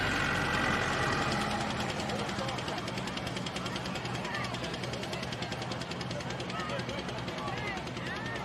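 An International pulling tractor runs hard at a tractor pull, its engine a loud, continuous rough roar that stays strong throughout.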